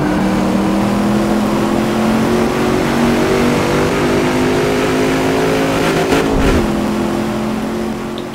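A new Chevrolet Camaro in the Game Stock Car 2012 racing game holds a loud, steady engine drone with a shift in pitch near the end as it revs, alone without talk.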